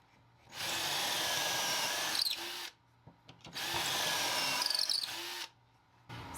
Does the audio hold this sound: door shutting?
no